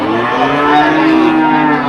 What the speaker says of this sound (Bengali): এটা মহিষ এটা মহিষের বাচ্চা